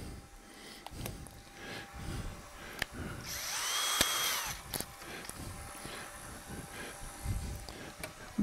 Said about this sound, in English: Now I have to hollow out the birdhouse, and here I use a 1/4 inch bit and bore down.